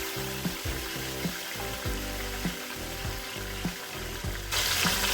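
Tomatoes going into a frying chicken biryani masala, a steady loud sizzle with repeated stirring scrapes and a rhythmic low clatter, the hiss swelling sharply near the end.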